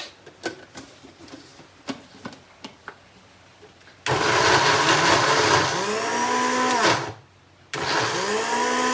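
After a few scattered clicks and knocks, a blender motor starts up loud and close and whirs steadily. It cuts out briefly, then kicks back on, with no talking over it.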